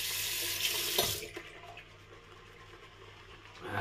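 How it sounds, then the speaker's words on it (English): Water gushes from a tap for about a second, then cuts off, leaving faint drips and quiet room noise. "Now that we could add more water, and we will."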